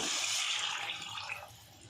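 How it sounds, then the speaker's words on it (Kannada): Half a litre of water poured into a hot pan of spiced aloo bhaji base, a brief soft splashing gush that fades out within two seconds, quiet and with no talk. "ಒಂದು ಅರ್ಧ ಲೀಟ್ರಷ್ಟು ನೀರು ಹಾಕ್ತಾಯಿದ್ದೀನಿ"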